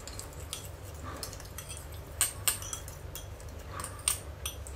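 A metal spoon stirs and clinks against a container while soap ingredients, gold pearl pigment dissolved in cologne, are melted for underwater soap; faint scraping with a few sharp, quiet clinks spread through, no talking.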